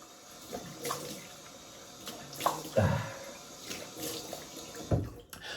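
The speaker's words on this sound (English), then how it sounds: "Cold water." Cold water runs from a tap in a bathroom sink during shaving prep, heard as soft, faint splashing and dripping with a few brief louder gushes.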